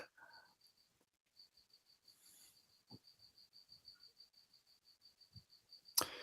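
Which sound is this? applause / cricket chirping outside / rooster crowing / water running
cricket chirping outside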